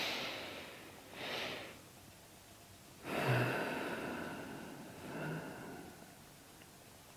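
Slow, long breaths during a guided meditation, three soft inhale-exhale swells with a louder, longer one in the middle, close and faint against a quiet background, with no speech.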